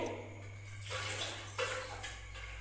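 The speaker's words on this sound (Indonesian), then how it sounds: "Dan di sini kita membersihkan alatnya selanjutnya menggunakan air yang mengalir." Medical instruments are rinsed under running water at a sink, a steady hissing stream with soft clinks and splashes as the tools move through it, over a low electrical hum.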